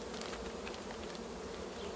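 Honey bees from a red queen colony hum at an open hive, a loud, dense and even buzzing that stays close and constant with no talk.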